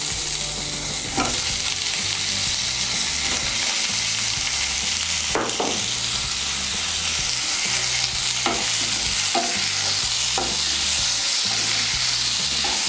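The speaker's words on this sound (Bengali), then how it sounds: "টমেটোটাকে পেঁয়াজের সঙ্গে ভালো করে মিশিয়ে নিয়ে" Raw tomatoes, 250 grams, are stirred into lightly fried onions in a pan, with a continuous sizzle broken by periodic spoon scrapes and knocks against the pan, near and fairly loud, with no speech.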